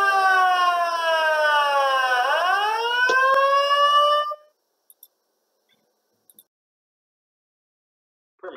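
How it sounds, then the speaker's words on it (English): An industrial plant's emergency siren wailing loudly and continuously, its pitch dipping and rising once before cutting off abruptly, leaving near silence with a few faint clicks. "This is an example of the siren going off."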